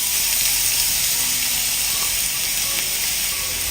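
Grated carrot hits a teaspoon of hot ghee in a pan over medium flame, giving a steady, close, bright sizzling hiss that holds evenly throughout with no talking.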